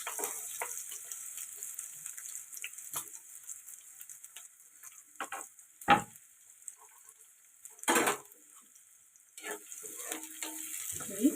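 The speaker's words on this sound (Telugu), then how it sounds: "ఇప్పుడు ఆయిల్ వేడయింది పచ్చిమిర్చి అలాగే కట్ చేసి పెట్టుకున్న ఆనియన్స్ కూడా వేస్తుంది" Chopped green chillies and onions drop into hot oil for a fish curry, giving a soft, patchy sizzle with two sharp, louder bursts of spitting oil partway through and quieter crackling between.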